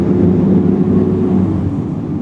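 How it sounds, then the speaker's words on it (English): Fire truck driving past a garage sale, a steady loud low engine rumble and road roar that holds close throughout with no voices over it. "Oh, we got a fire truck here, so a little noisy."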